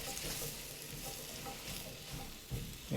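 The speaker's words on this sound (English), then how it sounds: "Give this another little stir." Stir-frying in a wok seasoned with togarashi and truffle salt, a steady sizzle with intermittent scraping and a louder clatter of tossing near the end.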